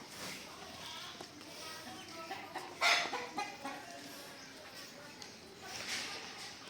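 Faint chicken clucks and a short squawk sound amid quiet outdoor farmyard noise, with distant voices in the background.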